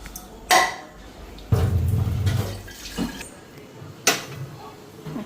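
A metal pot is set on a kitchen stove to make tea, with a few sharp clanks and a longer scraping knock spaced apart, plus light watery rustling, close and fairly loud.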